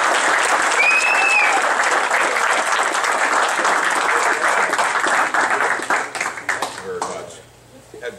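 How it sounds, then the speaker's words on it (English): An audience applauds at a lake association member meeting award presentation, sustained dense clapping that tapers off near the end as a voice speaks over it. "Let's give him a round of applause."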